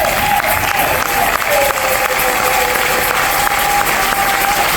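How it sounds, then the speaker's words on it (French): Sustained applause from a standing congregation at a church consecration ceremony for a woman pastor, steady dense clapping throughout with a faint tonal hum running underneath. "je vous prie de vous lever pour une courte ovation"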